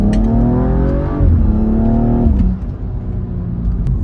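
A used car accelerates hard on a test drive, the engine revving up through second gear, then a shift into third and a further climb in pitch, loud and close from inside the car.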